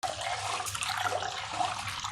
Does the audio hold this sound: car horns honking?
no